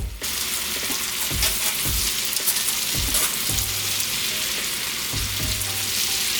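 Shrimp and garlic sizzle steadily in a hot frying pan, a constant crackling hiss broken by a handful of soft clacks and scrapes as the pan and food are stirred and moved.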